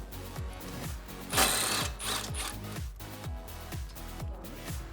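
A ratchet with a 12mm socket works loose the brake caliper bolts on a 2005-2014 Mustang, giving a steady run of quick mechanical clicks with a louder burst of metallic rasping midway.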